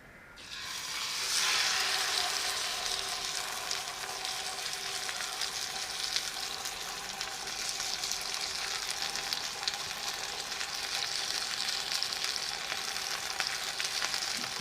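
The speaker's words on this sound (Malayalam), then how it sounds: "ഇനി നമുക്ക് നമ്മുടെ മീൻ ഒന്ന് എണ്ണയിൽ ചെറുതായിട്ട് വറുത്തെടുക്കാം." Pearl spot fish, karimeen, shallow-fries in oil with a sudden loud sizzle as it hits the pan, then a continuous dense crackling hiss that carries on steadily with no talking.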